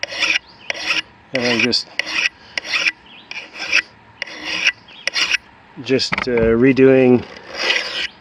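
A hand file rasps along the secondary bevel of a rock-nicked cutter mattock blade used for buckthorn removal, crisp repeated close strokes in bursts, with someone briefly talking between them.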